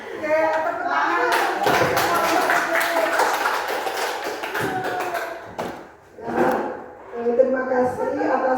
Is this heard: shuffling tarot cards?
no